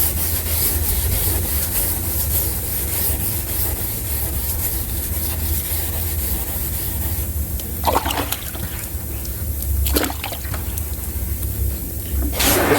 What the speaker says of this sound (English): you're just gonna start sanding.